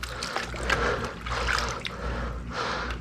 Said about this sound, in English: This is just regular old plain warm water.